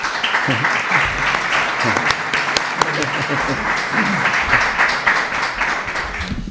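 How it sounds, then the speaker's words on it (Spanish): Audience applause for writer Manuel Rodríguez Domínguez at a book presentation on Andalusian Spanish: dense, steady clapping from a full room that carries through the whole stretch, with voices mixed in. "Yo pido para él un aplauso"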